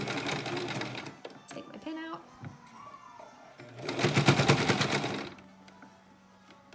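Home sewing machine stitching a fabric face mask, a fast rattling hum in two bursts, the longer one near the end, with someone talking before and between them.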